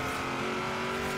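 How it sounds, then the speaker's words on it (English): Cabin view of a 1956 Ford F100 pickup in the racing game Forza Horizon 3, a steady engine drone with a sustained tonal hum filling the cab, constant and moderately loud, no voices. "Really actually kind of sounds like the inside of a car."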